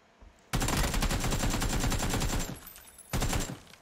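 Automatic rifle gunfire in the video game PUBG, loud rapid bursts of shots: a long sustained volley, a short pause, then a second brief burst, heard up close with no talk.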